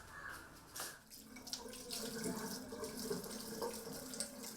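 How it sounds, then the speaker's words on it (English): A tap runs steadily while hands are washed beneath it, a soft continuous splashing with slight shifts, quiet and close, with a faint voice underneath. "Wash your hands well"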